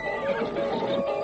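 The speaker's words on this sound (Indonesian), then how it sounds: "Sakawuni menghentikan kudanya" A horse whinnies as its rider pulls it to a halt, a radio drama sound effect set in the Kediri era, loud and close with a shaky, sustained neigh filling the short moment.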